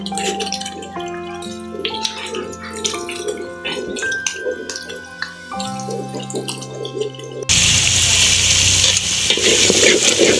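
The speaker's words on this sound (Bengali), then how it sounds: "মশলাটা ভালোভাবে কষাই নিয়েছি।" Spice masala fried and stirred in a pan in a village kitchen: bright sizzling with scraping, clinking stirs that swells into a loud, dense frying hiss toward the end.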